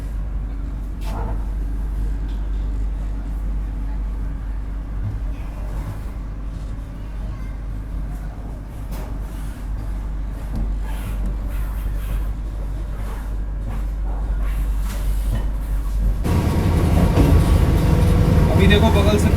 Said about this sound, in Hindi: सामने वो जो ट्रेन आप देख रहे हो ये कोलकाता जम्मू तवी एक्सप्रेस अभी अराइव हो रही है वर्धमान पे